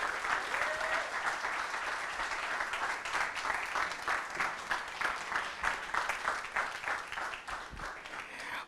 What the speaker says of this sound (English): Let's give one more round of applause for Mr. Shafiq Jadavji.